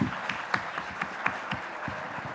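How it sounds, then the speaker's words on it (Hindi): An audience at a large televised summit applauds a yoga talk with continuous, moderately distant clapping, a steady crowd texture with a few louder individual claps standing out. "जोरदार तालियां।"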